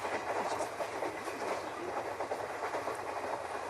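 A local commuter train rattles along with a steady clickety-clack and a broad rumbling roar, continuous and fairly close, with no voices over it.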